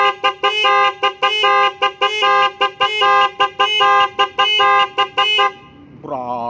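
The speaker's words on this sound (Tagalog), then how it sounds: "pakita ko muna sa inyo na mayroon tayong businang malakas at malakas ito" A loud aftermarket horn on a motorcycle blares in a rapid series of about a dozen short, harsh musical honks, then stops, and a voice comes in after it.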